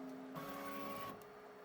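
A QidiTech X Smart3 3D printer runs its automatic bed height calibration across a 16-point grid, giving off a faint, steady motor whine with a higher tone sliding in briefly.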